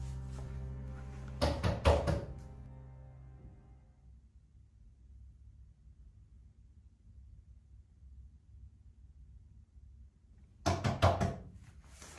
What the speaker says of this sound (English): As expected, the knocking woke him again.